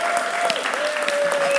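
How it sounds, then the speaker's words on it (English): An audience claps for Mark at a live event, a short burst of dense, even clapping from a crowd that goes on without a break. "give a huge round of applause to Mark for everything he's done"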